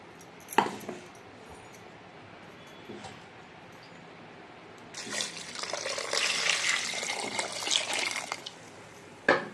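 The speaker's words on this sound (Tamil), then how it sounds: "இப்போ ஜார் அலசின தண்ணி இதை போட்டுக்கலாம்." A few faint clinks, then jar-rinsing water splashes and pours steadily for several seconds into a cooking pot, close and moderately loud, ending with a light knock.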